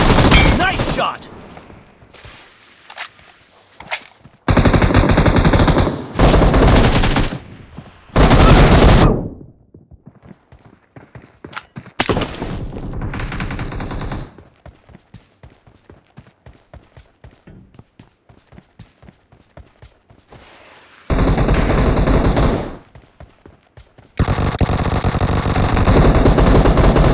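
Machine-gun fire in PUBG Mobile, several long loud automatic bursts and rapid strings of shots spread across the stretch, separated by quieter gaps with scattered single cracks.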